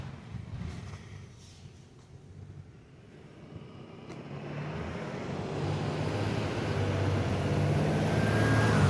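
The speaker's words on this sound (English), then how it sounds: "Hold on, a bus coming." A bus approaching along a street outdoors, its broad low engine rumble and road noise swelling steadily louder over several seconds as it draws near.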